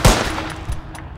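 A gun fires in the VR game SYREN: one sharp, loud report right at the start, then a few fainter cracks and an echoing tail over roughly a second.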